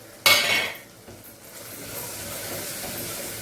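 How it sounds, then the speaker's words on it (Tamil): Jackfruit seeds tossed with ginger and garlic into a hot pan for jackfruit-seed paya: a sharp metallic clatter at the start gives way to a steady, soft sizzle and hiss that runs on alone. "போட்டு நம்ம பலாக்கொட்டை வச்சுருக்கல அதை போட்டோம் அது ஒரு ரெண்டு நிமிஷம் வதங்கட்டும்"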